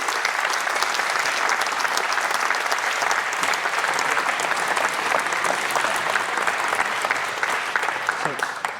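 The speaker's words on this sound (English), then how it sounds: "give yourself and everybody a round of applause" A conference audience at the Scottish Summit 2024 closing keynote breaks into sustained, even applause, a dense wash of many hands clapping at moderate distance for the whole stretch before tapering slightly at the end.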